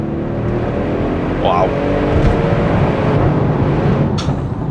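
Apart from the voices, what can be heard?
Audi RS6 C7 Performance accelerating at full throttle in third gear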